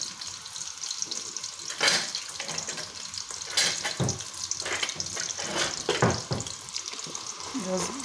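Sliced onions fry in hot oil while cooking oil rice with bonga fish, a close, steady sizzle and crackle with occasional stirring clatters and bursts throughout.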